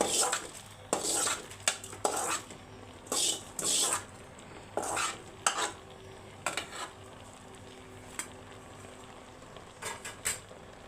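Red gongura leaves cook in a pan for pachadi while a utensil stirs them, giving intermittent metallic scrapes and clinks in short bursts over a quiet background, with no talk.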